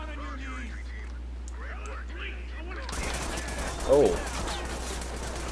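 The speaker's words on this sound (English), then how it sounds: "while you guys are shooting everything through the side of this building" Gunfire in the Ready or Not shooter game around a 4U gas station building, a rapid burst of shots starting partway through at moderate distance, with people talking over and before it.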